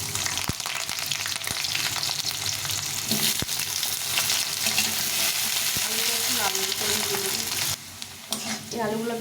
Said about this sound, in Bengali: তেলে আলুটা ভেজে নেব।